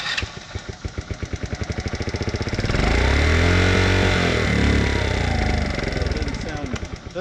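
An old motorcycle engine with the choke on cranks in rapid pulses, then catches and runs loud and rough at close range, its uneven firing holding steady before easing slightly.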